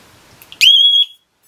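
A loud 12 volt piezo buzzer for an FPV quadcopter gives a single sharp, piercing beep lasting about half a second after a couple of faint clicks, then silence.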